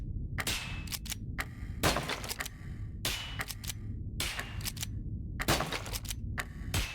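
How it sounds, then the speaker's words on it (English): Sharp gunshots in a horror video game fire in an irregular series of loud single cracks, several close together, over a steady low rumbling background. "Some of these shots are so inaccurate."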